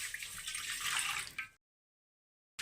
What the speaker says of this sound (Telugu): ముందుగా పొయ్యి మీద గిన్నె పెట్టుకొని నీళ్ళని పోసుకోవాలి